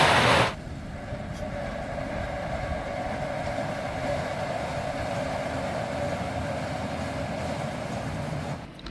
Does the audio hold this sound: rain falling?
no